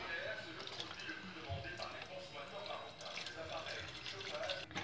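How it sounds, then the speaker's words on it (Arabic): Hot water pours into a pot holding cups of homemade yogurt, a continuous splashing, trickling flow heard up close alongside a faint background voice. "بعد أن قمت بصب الماء الساخن"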